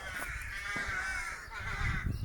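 Crows call with harsh caws from nests overhead at the Hill of Tara at dawn, a nearby raspy cawing that carries over faint outdoor background noise.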